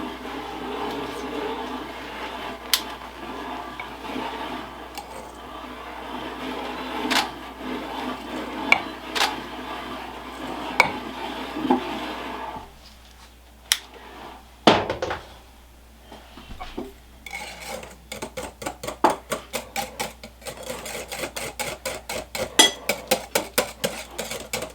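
Ingredients mixed together in a bowl while baking, before rolling out a pie crust: a steady scraping, rubbing stir for about twelve seconds, then a pause and a run of quicker, rhythmic clinks and taps of a utensil against the bowl.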